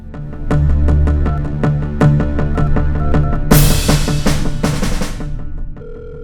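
A telephone rings repeatedly and goes unanswered, a loud, regular series of bright electronic rings in close succession, with a burst of denser noise near the end before the ringing stops.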